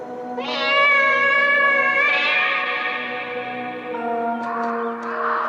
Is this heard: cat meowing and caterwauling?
yes